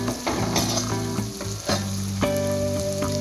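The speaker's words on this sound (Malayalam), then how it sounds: "തക്കാളി വേവിച്ച് ഗ്രേവി ആക്കി എടുക്കണം." Tomatoes sizzling in a pan as they cook down into gravy for a crab curry, a loud steady sizzle with stirring clatter, joined by a tonal hum from a nearby appliance.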